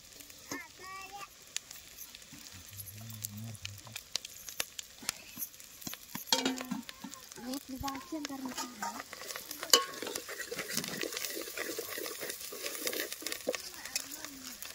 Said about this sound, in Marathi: आता चांगलं लाल तळून द्यायचा का लसूण खोबरा आमटीला फोडणी द्यायची